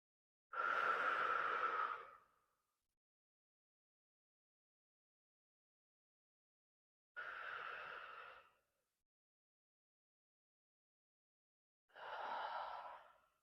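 Three slow, deep breaths taken while holding a warrior yoga pose, each a soft breathy rush lasting a second or two, close and quiet, separated by long silent pauses.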